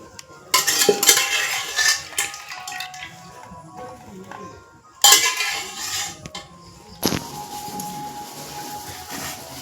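Boiled chalta being lifted out of water with a strainer for a pickle, heard as sharp metal scrapes and clinks of utensils against a pot in bursts, with quieter handling and splashes between.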